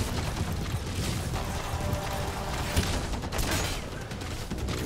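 Enemy gunfire in the video game Metal Gear Solid V: The Phantom Pain, a dense, continuous barrage of shots and booms that holds at a steady loud level throughout, with no talk over it.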